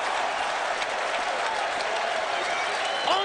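Stadium fans at a Rangers–Orioles game in Baltimore roar and clap in a sustained, loud wash of applause and crowd noise, swelling slightly toward the end, with a faint voice mixed in.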